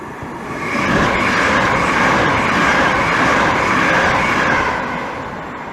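A train passes through Chestfield and Swalecliffe station with a continuous rumbling roar that swells in about a second, holds steady and loud, then eases off toward the end, with no voices.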